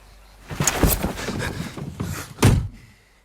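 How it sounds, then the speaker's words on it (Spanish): A car door shuts during a tense film scene at an abandoned house in the countryside, a solid thunk standing out against a busy background bed, with a second heavy impact near the end. "Escuchamos la puerta cerrarse pero no abrirse."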